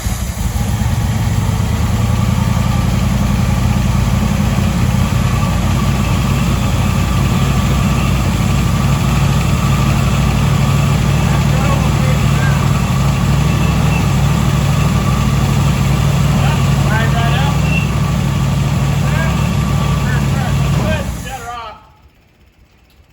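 The engine of a barn-find 1967 Chevy El Camino runs at a loud, rough idle, rumbling close by with a steady low drone for about twenty seconds before it cuts off and falls silent.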